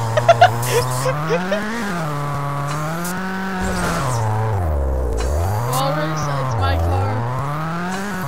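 Car in Garry's Mod driving with an engine drone rising and falling as it speeds up and slows, loud and continuous, with brief laughter at the start.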